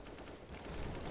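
Rapid gunfire from a rifle in the video game CS:GO, a brief dense burst of shots lasting about a second at steady loudness, with no talk over it.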